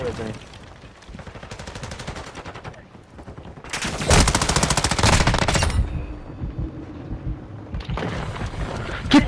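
Call of Duty: Modern Warfare 2 gunfire comes in bursts: loud rapid automatic fire, heaviest in a sustained stretch midway and again near the end, with a player talking over the quieter parts.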